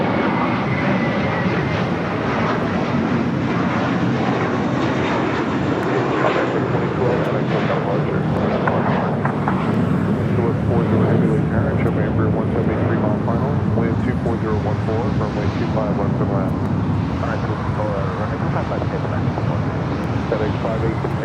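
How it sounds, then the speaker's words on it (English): A FedEx MD-11 touches down on runway 25 Left at LAX, a steady broad roar of jet engines and rushing air running throughout, with radio chatter and voices layered over it. "FedEx MD 11 touching down on 25 left."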